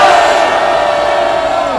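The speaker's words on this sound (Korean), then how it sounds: "문재인 주사파 저지의 함성 집중 발사" A large crowd at a political rally in Seoul Station plaza shouts together in one sustained, loud roar, voices blending into a continuous collective cry.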